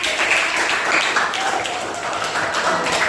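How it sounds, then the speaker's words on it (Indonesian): Classmates in a school classroom clap for a fellow student, a steady, fairly dense patter of hand claps lasting throughout at moderate level, with faint voices mixed underneath. "untuk tepuk tangan dulu buat temannya"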